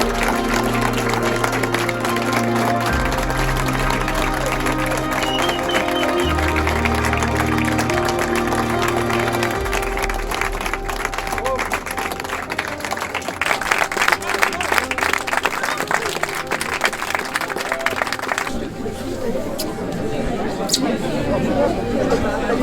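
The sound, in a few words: audience applauding election winner Hugo Franck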